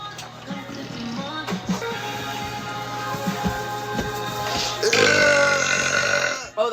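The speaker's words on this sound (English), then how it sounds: "we're being summoned to burp" A girl lets out a series of burps, several short ones in a row followed by a long, loud, drawn-out burp near the end, close and clear.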